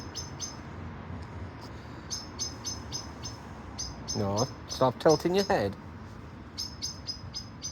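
Small birds chirp outdoors in short, repeated bright bursts that recur throughout, with a louder cluster near the middle, while a person talks over them close by.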